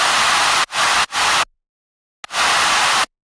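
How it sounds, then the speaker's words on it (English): Bursts of bright hissing white noise, used as an effect in a melodic rock-electronic remix, switch on and off abruptly, three short blasts followed by a gap of silence and a longer final burst. "Used white noise and crowd effect to fill out the frequency spectrum"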